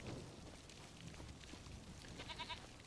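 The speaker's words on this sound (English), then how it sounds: "Look at the little goat." Goats bleating in the Farming Simulator 25 video game, a few short bleats near the end over a steady low ambient bed, moderately loud with no talking.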